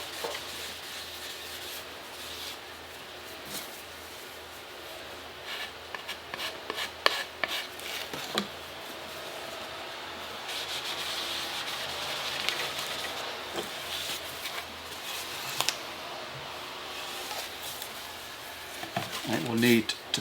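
Grain filler being rubbed by hand into the top of a guitar body built from Rock City stage floorboards, a continuous close scrubbing and rasping with scattered knocks.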